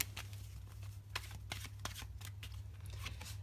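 Tarot cards being shuffled by hand, a rapid series of crisp riffling bursts and soft slaps close to the microphone, repeating irregularly over a quiet low hum.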